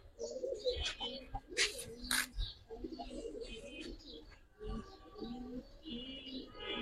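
Giribaz and silver pigeons coo repeatedly in a low, throaty rhythm, several birds close by, with soft chirps and faint background talk mixed in.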